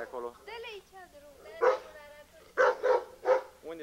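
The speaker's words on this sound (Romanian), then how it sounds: "Uite, am câinii mari acolo." Big dogs bark at a village in Romania in 1991, several sharp barks close by, mixed with whines and yips, while people talk.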